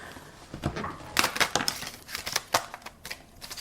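Oracle cards are shuffled by hand in a series of quick papery riffles and soft slaps, close and moderately loud, with no talking.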